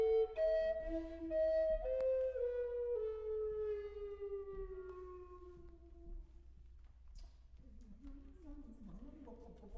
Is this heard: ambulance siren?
yes